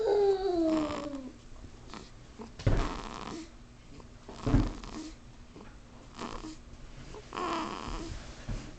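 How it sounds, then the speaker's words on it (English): A sleeping cat snores in slow, soft rasping breaths at close range, each snort a low rumble repeating every second or two, with a brief meow-like sound near the start. "He's snoring."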